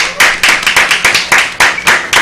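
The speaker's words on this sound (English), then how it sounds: "She deserves a round of applause." Audience at a Bladensburg council meeting clapping in a loose, rhythmic patter of distinct claps, fairly close and loud, with no talk over it.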